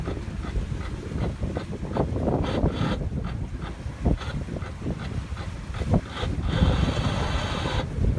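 A sailboat under sail at about six knots on the sea off the English coast between Pin Mill and Lowestoft, steady wind rushing over the microphone with water wash and occasional knocks, continuous and fairly loud.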